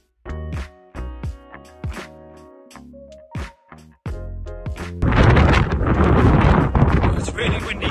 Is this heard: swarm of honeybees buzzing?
no